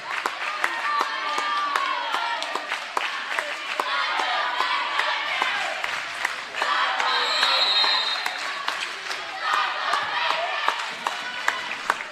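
Crowd at a girls' high school basketball game shouting and clamoring, a continuous loud roar of voices with scattered claps and sharp court sounds throughout.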